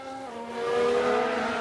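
A race car spinning out in the F1 Manager 2022 racing game gives a high, sustained engine whine with tire-squeal tones that swell louder about halfway through the short burst, with no talking.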